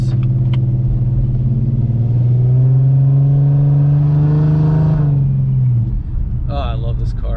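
A 2005-2010 Ford Mustang with the 4.0 V6 runs close up, its engine droning steadily and then climbing and falling in pitch as it revs before settling back, with a voice speaking near the end.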